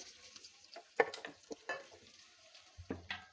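Fried onion and garlic poured in to sizzle with beef tripe over a village wood-fired stove, a faint crackling fry with scattered utensil clinks and scrapes, quiet and close, without talk.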